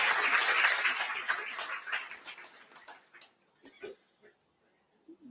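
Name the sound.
audience applause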